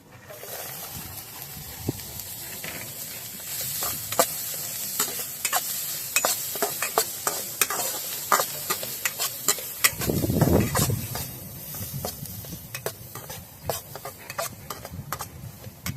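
Onion frying in a pan outdoors by a riverside, with a spoon stirring and scraping steadily against the pan under a constant sizzle. A brief louder burst of sizzling comes midway, with no talking.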